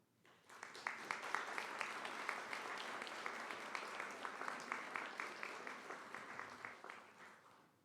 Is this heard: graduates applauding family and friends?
yes